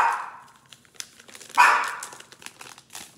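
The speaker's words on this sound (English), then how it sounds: "She loves to bark when I film." A pet dog barks during a bass-fishing bait demonstration, with one clear, moderately loud bark near the middle, a softer yelp at the start, and faint rustling and handling noise around them.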